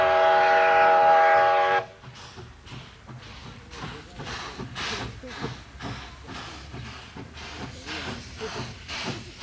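A train runs on the railway through the Tian Shan mountains: a loud tonal whistle-like blast opens briefly, then gives way to a steady rumble with regular rhythmic clacks of wheels over rail joints, heard alone.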